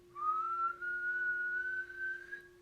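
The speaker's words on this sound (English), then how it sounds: "You hear how they were boiling the pot of water?" A kettle on the boil lets out a single rising whistle for about two seconds, clear and fairly quiet.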